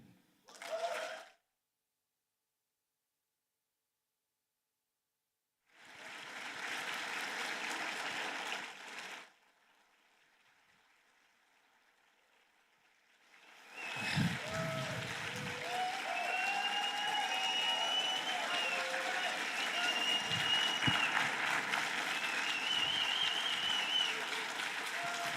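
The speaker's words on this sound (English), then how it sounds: "introduce to this stage, with the loudest round of applause, Demir." Audience applause at the opening of the Reboot Develop Blue 2022 game developer conference: a brief burst, a short spell of clapping, a pause, then a long sustained ovation from a large hall crowd.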